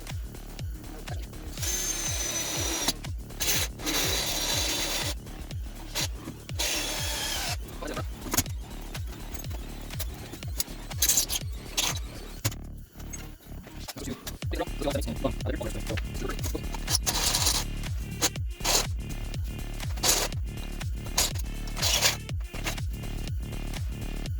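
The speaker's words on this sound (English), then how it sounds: "I'm going to start with a small step drill" A power drill with a step bit whirs and grinds through metal in repeated bursts, starting and stopping, close and loud, with rattling handling noises between runs.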